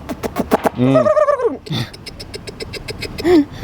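A human voice imitates a call used to summon chickens, making rapid clicking bursts and warbling, gobble-like sounds up close, loud and repeated in short spurts.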